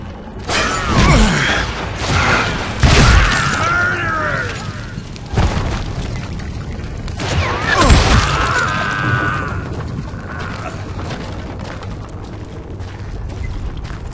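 In the Western shooter game Call of Juarez: Gunslinger, deep booming explosions hit with crashing debris and creaking mechanical rattles, two big blasts a few seconds apart followed by lingering rumble and scattered game effects.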